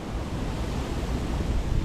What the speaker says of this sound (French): Il y a pas mal de vent, il pleut.